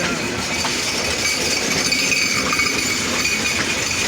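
The Titumir and Nilsagar trains cross near Nilphamari, filling the air with a loud, continuous rail rumble and faint metallic clinks, steady throughout with no voices.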